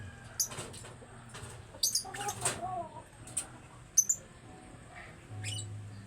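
An African bird calling up close: scattered short chirps and coo-like notes with brief wing flutters, separated by quiet gaps.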